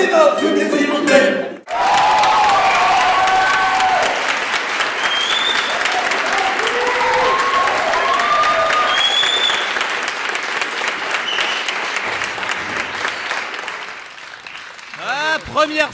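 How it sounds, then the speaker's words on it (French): An audience breaks into loud, sustained applause and cheering for a performer on stage after a call-and-response chant, with scattered shouts over the clapping before it thins out and speech returns at the end. "on peut l'applaudir bien fort"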